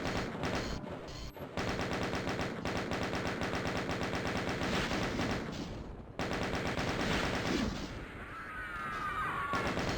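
Rapid, continuous chaingun fire from the Doom mod Eviternity II rattles on almost nonstop, loud and dense, with brief pauses and a few scattered effects.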